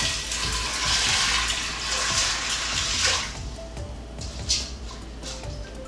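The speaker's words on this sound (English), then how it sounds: "then we're gonna add in enough water to cover" Water pours steadily from a container over dry beans in an Instant Pot pressure cooker, a close rushing splash that stops after about three seconds, leaving faint drips and trickles.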